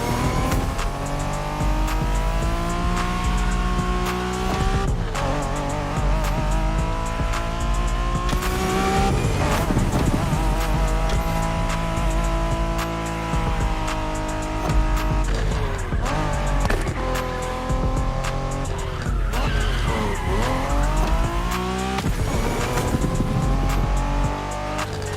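An NSX sports car races in The Crew Motorfest, its engine droning and revving through rising and falling gear changes, with tire squeal and a steady loud roar and no talking.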